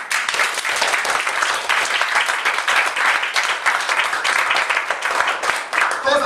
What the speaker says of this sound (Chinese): 有没有掌声？